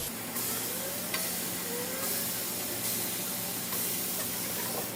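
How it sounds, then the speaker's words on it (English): Steady crackling sizzle of chicken searing on a hot grill, a constant bright hiss with faint pops, close and continuous, no voices. "Can you hear that sizzle?"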